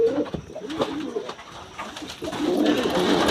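Pigeons cooing in a loft, a series of soft, throaty coos repeating close by with some shuffling and rustle between calls, no speech.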